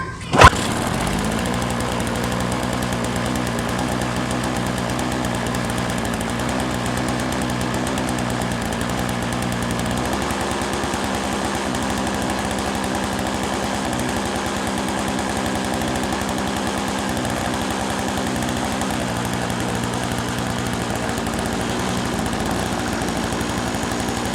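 A Toro CCR 1000 snowblower engine runs steadily on choke with a rough, buzzy, slightly uneven chugging idle, close and continuous throughout, after a brief sharp knock at the start.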